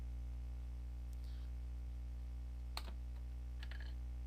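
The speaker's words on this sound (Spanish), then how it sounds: "presionamos la combinación de teclas Control Shift" A few sparse key presses on a computer keyboard, including a sharp click near the middle and a couple of lighter taps, over a faint steady electrical hum.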